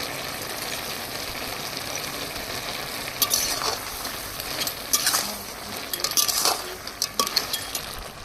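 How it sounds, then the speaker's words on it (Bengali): Water lily stems braise in a wok under a steady low sizzle, while a spatula scrapes and clinks against the metal in irregular bursts of stirring. "এবার ঢাকা দিয়ে শাপলাগুলো কষিয়ে নেবো"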